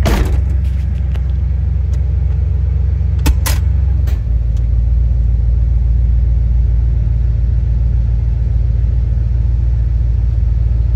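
A Chevy S10 pickup with a custom exhaust rumbles loud and close as it starts to move, a deep steady low drone with a few brief higher clatters early on and no voices.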